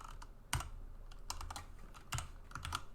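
Keystrokes on a computer keyboard while defining robot drive motors in code, a few sharp separate clicks and short bursts of typing, close up and fairly quiet, with no talking.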